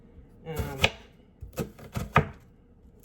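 A knife chops onion on a cutting board for chickpea meatballs, a few sharp, close chops landing in an uneven rhythm with short pauses between them.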